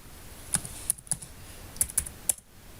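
Several quick keystrokes clack on a computer keyboard in short irregular bursts, close and fairly crisp, with no talking.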